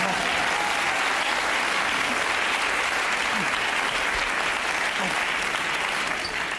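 Loud, close audience applause at a live comedy show, continuous dense clapping at a steady level with a few voices faintly beneath it.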